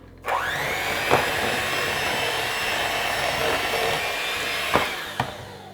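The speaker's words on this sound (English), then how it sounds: "I'm gonna be done with the mixer here and do the rest by hand." An electric hand mixer whirs through chocolate banana bread batter, switching on with a rising whine and running as a steady, loud motor drone, with a few knocks against the bowl near the end.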